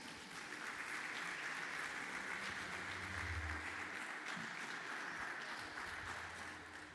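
Faint, distant audience applause at a medical conference panel on emotional management, a steady even patter of many hands clapping for several seconds before fading slightly.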